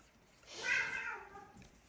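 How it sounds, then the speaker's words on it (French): A house cat gives a single drawn-out meow that rises and fades over about a second, close and fairly clear over faint room noise. "Comme vous l'entendez, mon chat est nettement plus en forme"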